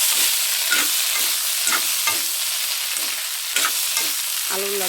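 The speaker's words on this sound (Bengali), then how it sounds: "তারপরে একটু লাড়া দাও ভালো করে" Potatoes with salt and turmeric are stirred in a hot pan, the spoon scraping in a steady rhythm of about ten strokes over a constant sizzle, up close and without talking.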